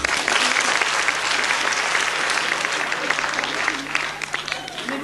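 A theater audience applauds continuously, a dense, steady wash of many hands clapping at close range, with the murmur of the crowd blended in throughout.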